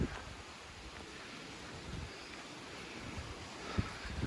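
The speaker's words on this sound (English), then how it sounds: "I don't know if I'll be able to hear anything with this wind." Steady wind in British Columbia buffets the microphone with a low rushing roar, and a faint thump sounds near the end.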